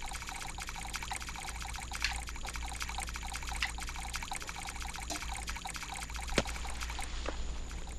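Wet squishing and trickling water sounds from a creature moving through water in the Xbox indie game Evolution 2: Fighting4Survival, a steady liquid pouring texture with soft clicks and blips over a constant low game hum.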